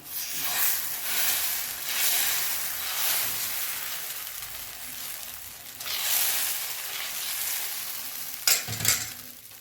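Rava dosa batter cooking on a hot tawa gives a bright, hissing sizzle that swells and fades in waves, with a sharp spatter burst near the end and no voices.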